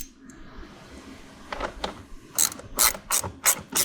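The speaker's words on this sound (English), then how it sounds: "Go ahead and tighten this up, just like it would have been before with the factory bolt." A ratchet clicks as a bolt is tightened on a Jeep JK/JKU universal accessory mount, starting with a few spaced clicks and then quickening into a close, loud run of repeated ratcheting strokes.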